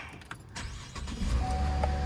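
A Cadillac engine cranks and catches after a few clicks and rustles, settling into a low, steady idle close by, with no talk.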